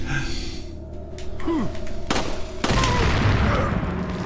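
Gunshots in Resident Evil 4 on GameCube, a couple of sharp loud cracks about two seconds apart against a rumbling game background, with faint talk.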